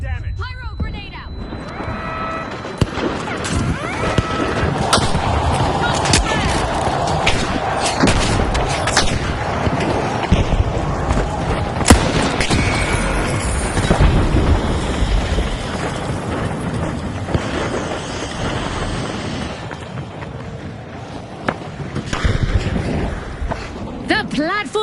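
Flashbang and pyro grenade blasts go off in a team shooter game fighting over a moving platform, amid dense gunfire and booms that rumble on continuously for the whole stretch, with voices talking over the action.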